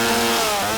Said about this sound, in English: They just like to have chainsaws and rev shit up